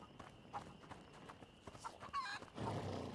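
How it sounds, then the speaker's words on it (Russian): A horse in A Plague Tale: Innocence, outdoors at night, gives faint, scattered hoof steps and shuffles, then a brief snort or whinny-like burst, all quiet and close. "Привет, лошадка."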